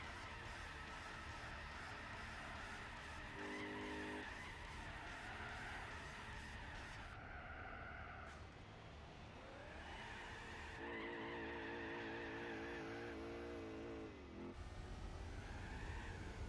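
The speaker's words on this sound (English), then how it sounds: "Why is it wheel spinning in third?" Tyre wheelspin in third gear in the Gran Turismo 4 video game: sustained screeching tire squeal over a droning car engine, continuous and close, with the pitch shifting as the revs rise and fall.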